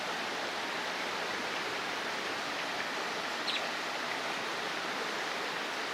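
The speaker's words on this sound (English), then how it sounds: "waterfall area." Steady broadband rush of water spilling from a fountain waterfall along a downtown riverwalk in San Angelo, Texas, continuous and even throughout with no voices, a faint bird chirp briefly surfacing near the middle.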